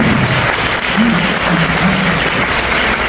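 An audience claps loudly, a thick wash of applause that stays full for the whole stretch with faint crowd murmur mixed in.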